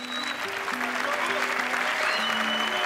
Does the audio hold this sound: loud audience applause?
yes